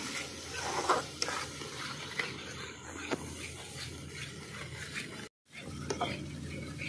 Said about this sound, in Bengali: ভালো করে আমি 2 থেকে 3 মিনিট কষিয়ে নেব এইভাবে